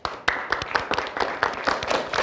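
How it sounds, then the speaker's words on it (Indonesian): Group applause with many hands clapping in an irregular, fairly close patter, lasting a couple of seconds at a school quiz competition. "Tepuk tangan dulu."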